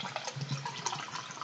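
Peach iced tea G Fuel drink poured into a cup, a steady close liquid splash and trickle that runs throughout with small bubbling bursts and no talking.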